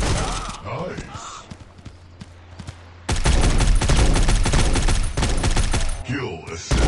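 Gunfire from the mobile shooter Guns of Boom crackles in rapid sustained bursts. Lighter scattered shots give way to a loud, dense fusillade, with game announcer voice lines heard over the action.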